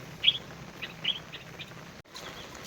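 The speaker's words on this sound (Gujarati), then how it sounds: "આ જો કેવો ખખરિયો બોલે" A khakhariyo bird calls outdoors on a rainy day, giving a few faint, high chirps spaced about every half second against a steady background hiss, with no talking.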